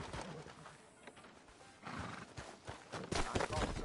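Horse in Red Dead Redemption 2, its hooves clopping and a whinny mixed with rough game ambience, brief voices and louder bursts toward the end, arriving at a town sheriff's office.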